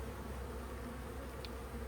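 Honey bees in an opened hive during a colony inspection make a dense, continuous buzz close by. The sound is steady and heard on its own, with no voices.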